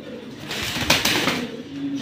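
A pair of cheetah-coloured military pigeons coos close up in soft, throaty bursts, with a brief rustle in the middle and the cooing starting again toward the end.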